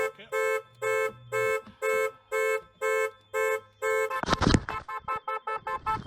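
A Lexus LS430's car alarm blares in a steady repeating pattern of loud electronic honks, about eight evenly spaced pulses, then breaks into a clattering rush of noise and choppier tones near the end.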